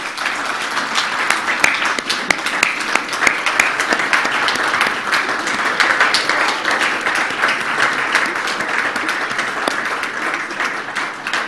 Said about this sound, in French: Je vous prie, s'il vous plaît, de lui faire une standing ovation parce qu'il le mérite.